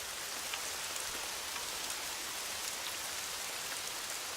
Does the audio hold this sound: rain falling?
yes